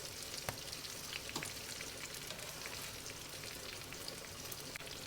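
Fried fish goes into a spice paste of softened onion in a pan for a Bengali curry. A quiet, steady sizzle carries scattered crackles and pops, with no voices.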